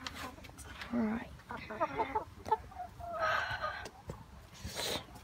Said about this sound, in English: Here are the dirty chickens.